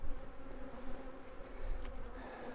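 Honeybees swarm around a hive being split outdoors, making a steady, fairly faint buzzing drone that holds through the whole stretch with no voices.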